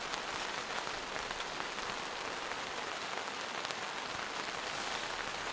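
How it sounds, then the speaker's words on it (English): Light drizzle falls steadily on a camping setup, likely onto an inflatable air frame tent, making a soft, even patter that is close and faint, without talk. "I thought I could stay at home in this drizzle"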